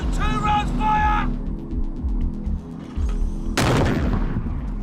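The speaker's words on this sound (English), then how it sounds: "And if the regiment comes under attack, they can use the 81mm mortars." 81mm mortars firing rounds at a military position in Afghanistan: a deep heavy boom rings out near the end over a rumbling background, with a brief shouted voice and a ticking signal earlier.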